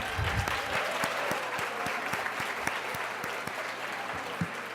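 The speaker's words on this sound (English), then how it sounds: "So let's give Sasha a big round of applause" An audience at a women's day breakfast applauds steadily, with a broad wash of many hands clapping at moderate distance and a few sharper individual claps standing out.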